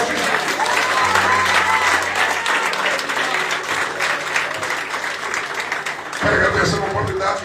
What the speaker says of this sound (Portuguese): Só quem crê dá uma salva de palmas com morte.